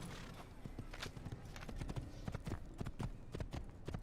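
Horse hooves gallop in the video game Assassin's Creed, a steady run of clip-clop beats, fairly quiet and close, with no talk over them.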